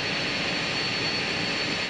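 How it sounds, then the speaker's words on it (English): An Australian search and rescue plane flies overhead at night during a sea search, giving a loud, steady engine roar that holds without a break. "The police helicopter heading out in the dark soon joined by an Australian search and rescue plane."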